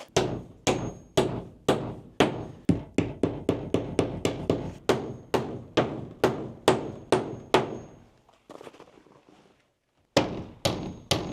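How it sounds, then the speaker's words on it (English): Hammering while framing windows of a tiny off-grid cabin in Alaska in winter: a long run of loud, evenly paced nail strikes, a short pause with faint rustling, then the blows resume. "I never know how to stand when I'm hammering"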